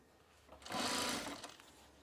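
Sewing machine stitching binding along the edge of a fabric crochet hook case, a short steady whir that rises for about a second then tapers off, fairly quiet and with no talk.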